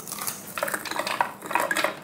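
Walnuts dropped into a blender for sage pesto, a brief clatter of hard nutshell pieces against the container, close and fairly loud, with a few scattered knocks.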